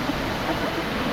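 A hidden waterfall near Pokhara Lekhnath pours steadily, a dense, continuous roar of falling water filling the short stretch without a break.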